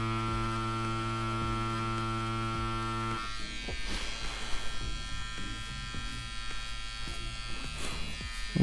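A tattoo machine fitted with a 14 cartridge buzzes with a steady electric whine, then turns rougher and more uneven as it works lines on a simple cartoon cloud tattoo, with no talking.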